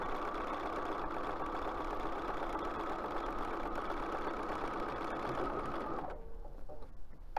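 A sewing machine stitching a spring chicken basket runs in a steady, continuous close whir, then stops abruptly near the end, leaving a few faint clicks.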